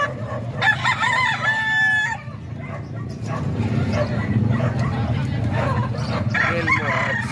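Two roosters crow in long, repeated calls near the start while a dog barks and a crowd murmurs throughout, keeping up a busy, loud background.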